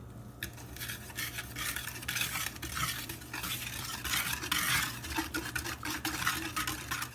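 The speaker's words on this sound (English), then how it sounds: "Añadan una taza de leche y batánla en bowl." Milk whisked in a bowl gives a quiet, continuous swishing with faint rhythmic scrapes of the whisk against the sides, steady and close throughout.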